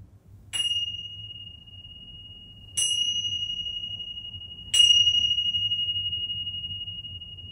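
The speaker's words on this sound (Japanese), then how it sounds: "今から浄化の鐘を鳴らしたいと思います" A purification bell is struck three times at slow, even intervals, each bright ring sustaining a clear, long-decaying tone in an otherwise quiet room.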